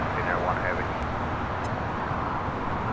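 A bare-metal Boeing 737-800 airliner in old livery comes in to land at LAX, its engines a steady broadband roar that stays present throughout, with people talking over it.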